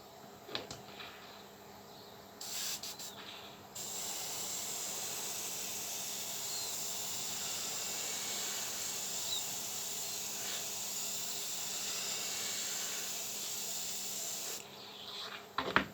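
Silver spray paint hisses onto a car's headlight area in one long, steady spray lasting about ten seconds, close and even, with faint handling noises before and after.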